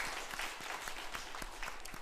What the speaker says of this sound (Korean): 우리 수요 찬양팀 수정 찬양팀 박수 한번 하시겠습니다